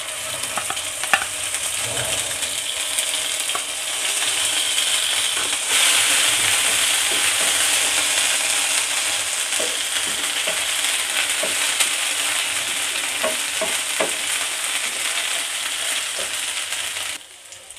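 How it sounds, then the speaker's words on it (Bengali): Loud, continuous sizzle of onion paste frying in oil, with stirring scrapes and occasional clinks, close up, lasting throughout with no talking. "পেঁয়াজটা ভাজা ভাজা হয়ে গেছে"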